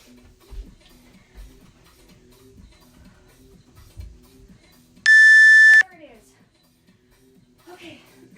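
A single sharp electronic beep from a workout interval timer during a bodyweight circuit sounds midway, loud and steady for under a second, with soft shuffling before it and a voice speaking right after.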